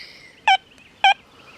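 A Deus 2 metal detector with an HF2 coil sounds its target tone over a gold ring lying on an aluminum can, two short, identical high beeps about half a second apart against quiet background.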